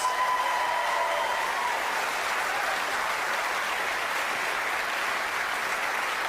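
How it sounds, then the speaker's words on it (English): A studio audience at a live paranormal TV show applauds a guest, a dense, steady wash of clapping that holds at even loudness throughout with no voices over it. "David Wells, give him a big round of applause."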